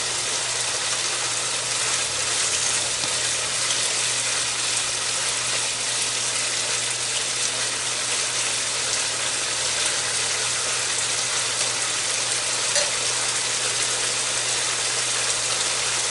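Beef strips frying in oil in a pan for a stir-fry with asparagus, a constant close hiss and crackle holding at even loudness throughout with no voices.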